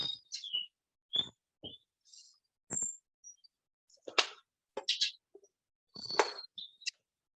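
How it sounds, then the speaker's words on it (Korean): A blue-and-white flycatcher sings in clear, bright bursts of whistled notes and chirps, separated by short pauses and heard fairly close with no other sounds around. "그리고 큰 유리새라는 새입니다."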